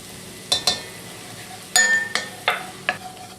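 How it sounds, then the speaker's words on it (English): A spoon scrapes and clinks in short separate bursts while flour is stirred into softened vegetables for corn chowder, with a faint sizzle beneath; the sound is close and fairly quiet. "We want to stir this constantly for a couple minutes. We want that flour to cook."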